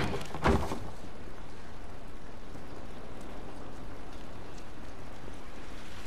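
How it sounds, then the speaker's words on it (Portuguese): Steady rain falls in The Last of Us, a constant even hiss of drops on surfaces, with a single soft thump near the start. "Essa chuva não vai nos ajudar."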